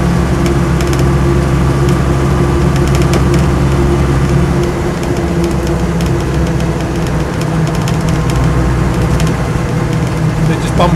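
Land Rover Series 2 88-inch diesel soft-top driving along, its engine a loud, constant low drone with road and cabin rattle throughout, heard from inside the vehicle.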